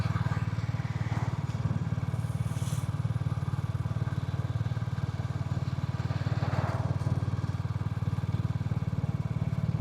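A Royal Enfield single-cylinder motorcycle engine rumbles steadily between houses, a loud, continuous low throb with no breaks across the whole stretch and no one talking over it.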